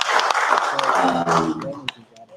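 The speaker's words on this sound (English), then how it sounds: "let's give another huge round of applause" A crowd applauds at the close of a community gathering, a dense burst of clapping right up close that fades after about two seconds, with voices mixed in.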